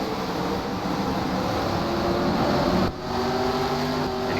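Stock race cars racing at Sonoma, a loud sustained engine roar from a nearby car holding a steady high drone, with a brief dip as it shifts, no voices.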